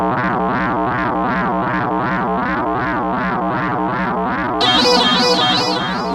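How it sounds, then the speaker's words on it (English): A FM sine-wave patch on an Arturia PolyBrute synthesizer sounds a loud sustained tone with a rhythmic wavering swirl from chorus, and a brighter layer joins near the end, all without talking. "Let's give it some chorus."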